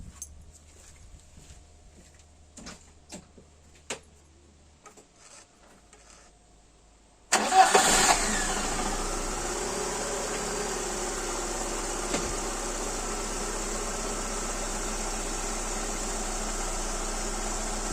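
After a few quiet clicks and taps, a VAZ 2110 engine cranks and catches with a sudden roar, then settles into a steady, even idle, during fuel pressure regulator diagnosis.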